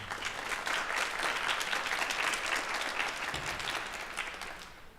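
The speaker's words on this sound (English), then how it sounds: "I want you to clap, not like we on a golf course." Students applauding their parents at a county jazz festival, a loud sustained burst of many hands clapping that holds steady and then tapers off near the end.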